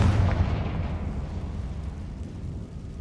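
A fiery Confringo spell blast in the Hogwarts Legacy video game, one heavy booming burst up front that rolls into a long, decaying rumble, loud and close with no talk over it.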